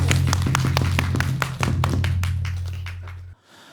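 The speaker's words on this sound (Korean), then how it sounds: "여러분 큰 박수로 혜진 스님 모시겠습니다." An audience claps loudly to welcome a Buddhist monk to the stage, a dense burst of applause with sharp hand claps under a low hum, fading out after about three seconds.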